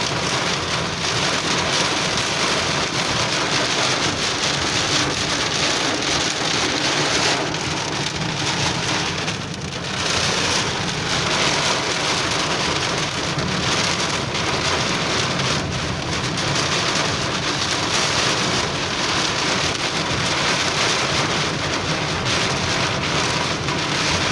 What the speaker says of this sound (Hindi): बड़ी बारिश है